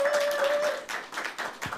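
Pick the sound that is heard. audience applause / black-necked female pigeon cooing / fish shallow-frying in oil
audience applause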